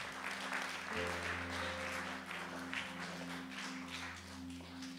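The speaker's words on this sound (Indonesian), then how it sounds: "Kita beri tepuk tangan buat Tuhan." Congregation applause at a church service, a steady wash of clapping from many hands held over five seconds with sustained organ or keyboard tones beneath it.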